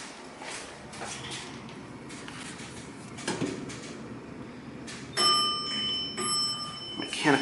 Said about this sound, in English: Mechanical bell. I like that.